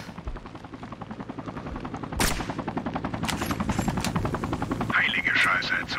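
Rapid machine-gun fire in Sniper: Ghost Warrior 3 rattles steadily over a helicopter-like drone, with one sharp close shot and a voice speaking near the end.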